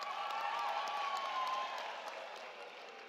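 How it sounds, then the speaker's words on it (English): A graduation ceremony crowd at the University of South Africa (UNISA) applauds in a dense, sustained wash of clapping, with a few high tonal cries riding on top before the clapping slowly thins and fades. "Can we applaud them, please?"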